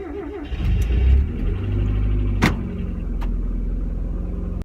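A Mazda Miata engine, just fitted with competition motor mounts, cranks and catches, then settles into a steady, close, loud idle with a brief rev spike partway through; no one speaks.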